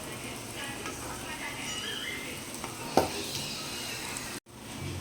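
Boiled potatoes are added to a frying masala for poori kilangu masala and stirred in a pan, giving a steady sizzle with scraping stir strokes and a sharp clink near the end, with a voice speaking faintly.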